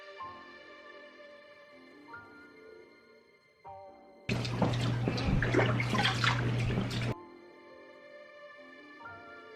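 Bath water pours from a tap to wet a child's hair, a loud, steady splashing rush that starts abruptly and runs for about three seconds before cutting off, with soft tonal sounds before and after.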